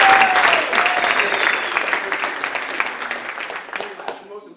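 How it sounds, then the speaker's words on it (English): Applause from an outdoor theatre audience at a Seattle Parks Department show, dense clapping with a few cheers, fading gradually toward the end. "Please, a huge round of applause."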